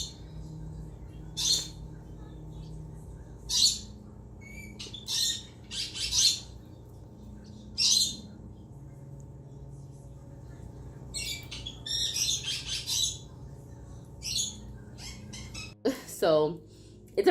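An African grey parrot lets out repeated sharp squawks and chirps, spaced across the stretch, with a low indoor hum beneath and a person speaking near the end.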